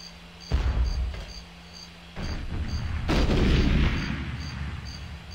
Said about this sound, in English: shoot this grenade launcher up here